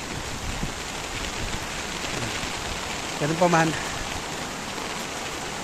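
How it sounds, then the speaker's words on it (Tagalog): Heavy rain pours steadily with wind during Typhoon Carina, a dense, constant hiss close to the microphone, while someone speaks briefly over it. "ito ngayon patuloy pa rin ang pag-ulan, malakas, may kasamang hangin"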